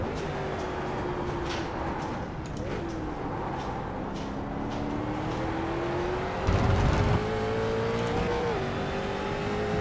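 A street stock race car engine in a racing game drones steadily, its pitch rising and falling through gear and throttle changes, with a brief louder surge near the end and no talking.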